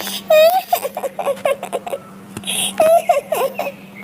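A high, wavering sobbing cry comes in short repeated bursts, loud and close, like a voice performing someone weeping.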